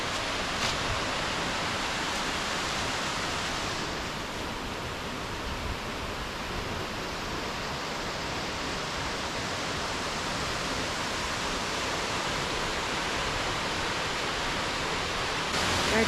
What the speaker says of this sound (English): Our Tennessee waterfalls, y'all.